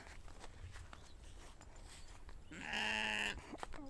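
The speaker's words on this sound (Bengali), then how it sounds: "এগুলো হলো ভেড়া" A single clear sheep bleat rises near the end, after quiet shuffling and light rustling sounds nearby.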